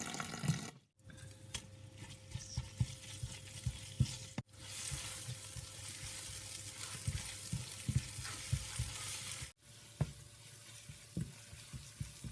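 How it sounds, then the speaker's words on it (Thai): Eggplant steadily sizzling as it is stir-fried in a hot pan, with intermittent stirring scrapes, fairly quiet and close, broken by a few brief silent gaps. "เราเอามะเขือไปผัดก่อนค่ะ"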